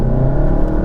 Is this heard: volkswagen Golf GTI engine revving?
yes